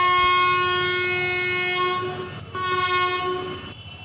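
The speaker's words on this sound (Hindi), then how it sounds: "दोनों ट्रेनों ने साथ में हॉर्न बजाया" Two locomotive horns blare together in a railway junction train game, a loud sustained chord that drops out briefly mid-way and then resumes over a low rumble of rolling stock.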